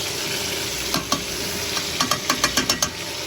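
Food being flipped in a frying pan for a scratch-made Creole gumbo with garlic, giving a steady sizzle with a run of quick, close scraping and clacking flips near the end.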